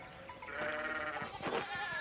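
A horse neighs in the video game Pentiment, a faint, wavering whinny with rising and falling pitch that swells midway, heard alone over a quiet game background.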